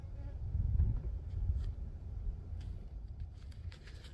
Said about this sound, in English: I don't know if you can hear in the background, there's some hummingbirds.